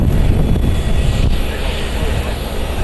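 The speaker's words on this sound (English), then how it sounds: "Alaska 450 heading over here to depart" An Alaska Airlines jet rolls toward departure at Columbus airport, a loud, close, continuous engine roar and rumble that holds steady throughout.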